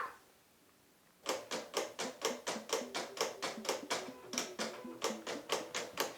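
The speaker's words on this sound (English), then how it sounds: "send this out over and to the Cameo and cut out the part that we do want to cut out" A Silhouette Cameo cutting machine cutting out a design, giving a steady series of about twenty sharp, evenly spaced mechanical ticks and clatters close by, starting after a second of near silence.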